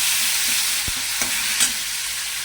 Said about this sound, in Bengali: টমেটোটা সুন্দর ভাজা ভাজা হয়ে গেছে